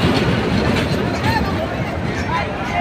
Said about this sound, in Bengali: এটা নিশ্চয় ময়মনসিংহ ট্রেন হবে।